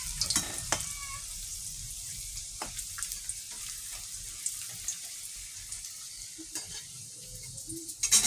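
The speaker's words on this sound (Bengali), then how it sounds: "হালকা ব্রাউন করে ফ্রাই করতে হবে।" Paneer fries in oil until light brown, giving a soft continuous sizzle close by with occasional clinks and scrapes of stirring, fairly quiet and without speech.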